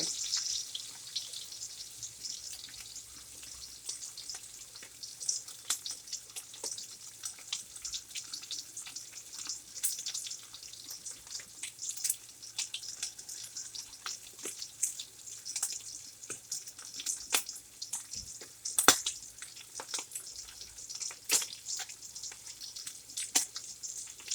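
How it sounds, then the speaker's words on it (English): Pork chops sear in a skillet with a steady, faint hiss of sizzling fat, broken by scattered small pops and crackles, heard alone with no talking. "What we're looking for is that they're searing a little bit of brownness on them."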